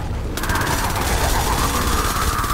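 Dense, continuous gunfire from the Fortnite video game during the Storm King boss fight forms a loud, unbroken rattling wall of shots with no pauses.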